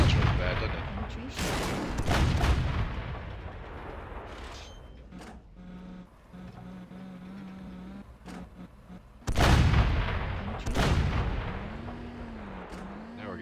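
Cannon blasts from a KV-5 heavy tank in World of Tanks boom loudly at intervals, with several heavy shots and rumbling aftermath over battle noise and engine hum.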